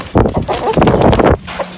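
A rooster on a small farm or mini zoo gives a loud, close crowing call lasting over a second, with rising and falling strained tones, alone without talk.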